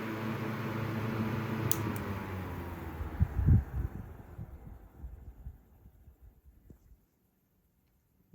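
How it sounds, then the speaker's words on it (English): A vintage 1960s Fasco 1015 fan motor, cleaned and oiled, spins down after being switched off: a steady close hum and airy whir with a low throb that fades gradually to silence over several seconds. "The spin down's not that great"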